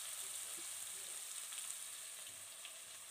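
Prawns frying in hot oil produce a continuous bright hiss that holds steady throughout, with faint bubbling underneath and no voices.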